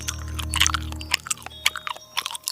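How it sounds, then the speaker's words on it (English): Wet, crunching chewing sounds come up close, with irregular bites, squishes and cracks over a low rumble that fades out partway through. "A low, wet, grinding crunch. The sound of a predator chewing bones."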